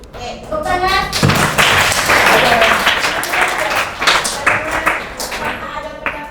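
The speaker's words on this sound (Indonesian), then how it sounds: "tepuk tangan." Schoolchildren in an Indonesian classroom clap together in a lively burst of quick, uneven hand claps and taps, with children's voices heard at the start and end.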